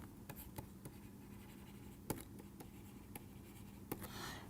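Handwriting during a maths lecture, a pen scratching across a surface in short strokes with a few sharper taps, quiet and close with no talking.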